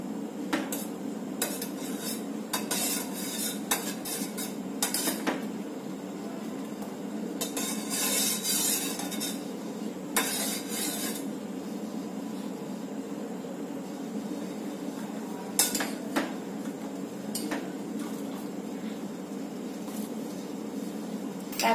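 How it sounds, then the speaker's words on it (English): Ayurvedic kadha being stirred in a pot on a just-switched-off gas stove, with steady metallic scraping and clinking of a spoon against the pot over a constant low hum, a few sharper clanks standing out. "we will turn off the gas and stir about 30 seconds."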